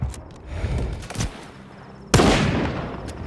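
Gunshots in the video game Stalker 2: a couple of quick shots early on, then a loud, sharp blast with a long ringing decay. No talking.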